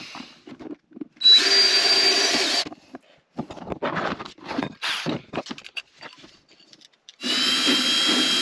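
Two bursts of a high-pitched power drill whining steadily as it drills a small hole in a camera trap housing from the inside, separated by a stretch of scraping and clicking handling noises, close up.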